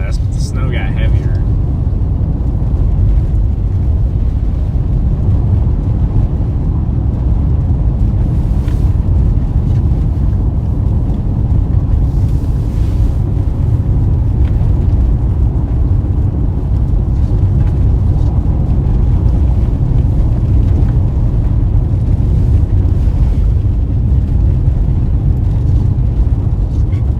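Blizzard wind and heavy snow in Iowa or Nebraska, heard from inside a moving car: a loud, constant low roar and rumble of wind and road noise, unbroken for the whole stretch.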